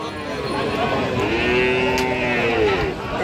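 Friesian cross heifer cattle at a village livestock market in Raniganj: a drawn-out moo rising and falling, repeated over a steady din of crowd chatter and market noise.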